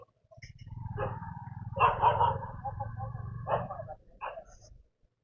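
Several dogs bark and yip at night along a road, a close, loud run of sharp barks with a whimpering edge, repeated in uneven bursts over a few seconds.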